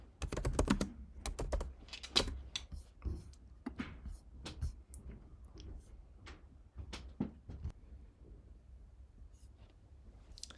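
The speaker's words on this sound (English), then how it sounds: "Obviously you can type in whatever you like at this point." Fingers type on a computer keyboard in irregular, close clicky keystrokes, busier and louder at first, then thinning to scattered taps.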